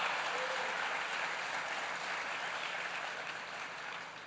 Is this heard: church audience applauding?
yes